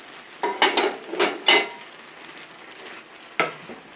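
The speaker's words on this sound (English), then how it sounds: "So we're going to add the chicken. And we're going to add the noodles." Chicken and udon noodles tossed into a stir-fry pan with vegetables: a cluster of clanking utensil-on-pan hits and stirring over a light sizzle, then one last knock after a pause.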